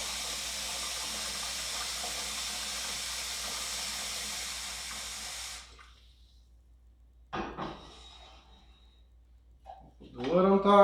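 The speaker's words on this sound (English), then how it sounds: "We're going to fill it up with water." Tap water runs steadily into a pot for Bulgarian bean soup, a continuous hiss and splash that stops partway through, followed by faint kitchen clatter.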